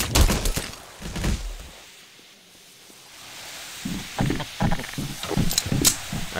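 Pistol shots in Garry's Mod ring out as a few sharp bursts at the start, then a quiet lull before a flurry of clustered cracks and impacts near the end, loud and close.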